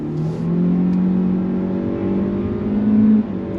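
A 2025 Kia K4 LXS accelerating on throttle after a U-turn, a steady rising engine drone heard from the cabin, climbing in pitch before dropping off abruptly near the end.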